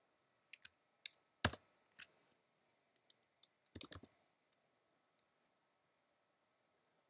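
Computer keyboard typing at a terminal: sparse, crisp key clicks in small irregular bursts with long gaps, close and fairly quiet, no voices.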